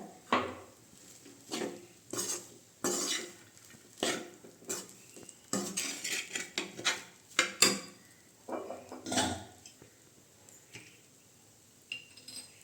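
A spoon stirs corn fried rice in a pan, giving repeated scraping and clinking strokes in an uneven rhythm, close and fairly loud, with quieter gaps between bursts and no talking.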